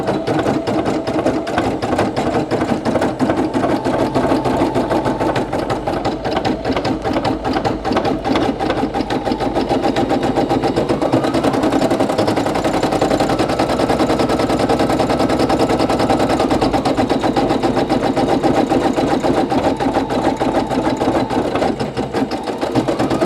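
A Brother PE800 embroidery machine stitches a patch with a steady, fast, loud rattling of needle strokes, a continuous mechanical chatter that runs without pause.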